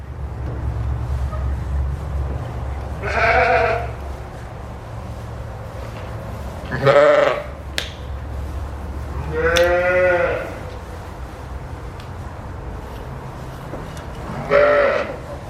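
Sheep and lambs bleat in a pen of ewes with twin lambs, several loud separate calls at intervals over a low steady hum, with no talk.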